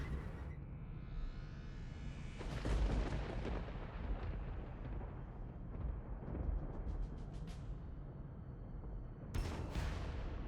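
Artillery fire in the strategy game Warhammer 40,000 Armageddon booms out in deep, rumbling blasts with long rolling tails, then a final sharp burst near the end, heavy and loud, with no voices.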